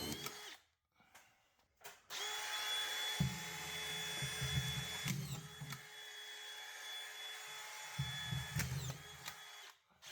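Dewalt DCF620 collated drywall screwgun driving screws in quick succession, the motor whining loudly between short bursts as each screw bites and sinks, close up with no talk.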